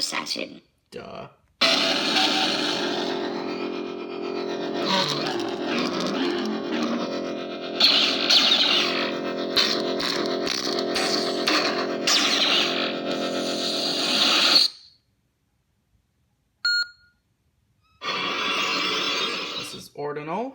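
Cyber Assassin lightsaber sound font played on a Prizm 5.1 board: a loud, distorted electronic hum with aggressive swings and crackling clashes, cutting out briefly before a shorter burst returns.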